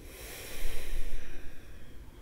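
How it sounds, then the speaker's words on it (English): A slow, deep in-breath through the nose during a guided meditation, a soft airy hiss that swells and fades over about two seconds, close and alone. "Breathe in and say, I."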